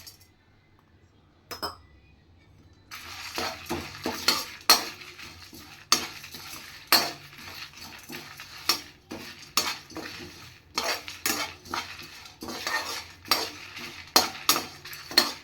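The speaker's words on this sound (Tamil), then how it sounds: "பூண்டும் சரி, காஞ்ச மிளகாவும் சரி, கருவேப்பிலையும் சரி, மிளகு, சீரகம் எல்லாமே மொறுன்னு வறுத்துறணும்." Garlic, dried red chilies, curry leaves, black pepper and cumin dry-roasting in a pan, heard as repeated close scraping and clinking of a spoon against metal in an irregular rhythm over a faint low hum, with no talk.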